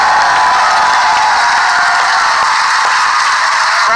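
Live studio audience at a head-to-head trivia match show applauding and cheering, a dense steady wash of clapping and crowd noise filling the whole stretch without pause.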